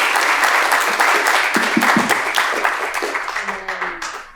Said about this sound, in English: let's do a little clap for our panelists before we turn to the questions